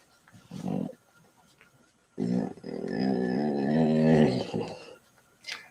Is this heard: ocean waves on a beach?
no